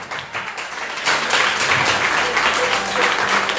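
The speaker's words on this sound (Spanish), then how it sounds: "Un aplauso al Señor." Applause rises from a church congregation during a Spanish-language service, starting thinly and then swelling about a second in into full, sustained clapping from many people.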